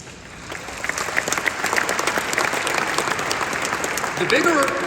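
An audience applauds during a speech at a Ripples of Hope 2025 event, sustained clapping from a large crowd that builds after a quiet start and stays steady to the end.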